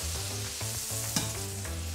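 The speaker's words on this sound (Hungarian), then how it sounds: "Csinálunk egy szép habzóvajat, így." Butter foams and sizzles steadily in a hot pan before honey is added for a gluten-free pumpkin gnocchi dish with goat cheese, a continuous close frying hiss running under a background music bed.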